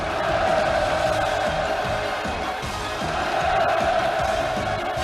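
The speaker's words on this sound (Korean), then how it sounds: "열광의 환호성이 끝없이 울려갔습니다" A large crowd roars and cheers enthusiastically at an outdoor opening ceremony at a resort in Wonsan, a steady dense wash of voices holding at an even level throughout.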